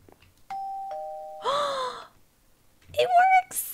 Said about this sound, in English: look, we have a doorbell.